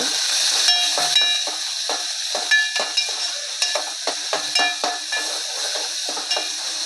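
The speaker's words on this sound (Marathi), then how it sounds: "कढीपत्ता टाकला आणि कांदा टॅमॅटो आणि लसूण हे एकत्र टाकणार आहोत आपण" Onion, tomato and garlic with curry leaves frying in a pan give off a steady bright sizzle, broken by repeated rhythmic scrapes and stirring taps throughout.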